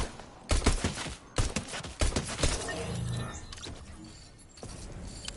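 Lever action rifle fire in Fortnite, several sharp loud cracks spaced irregularly across the clip with quieter game noise between shots.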